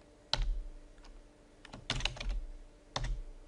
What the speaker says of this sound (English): I'm going to type in OpenOffice 4.